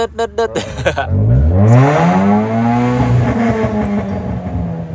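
A Honda Brio 1.2 with its ECU remapped and rev limiter removed revs loudly up through the range, the engine note sweeping up and falling back in long pulls, heard up close with a short burst at the start.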